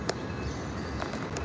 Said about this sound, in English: we missed the train